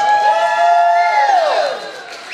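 Concert audience at an auditorium show cheering, whooping and yelling together in one sustained loud roar that swells and then tapers off near the end.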